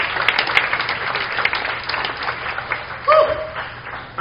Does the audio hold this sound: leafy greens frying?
no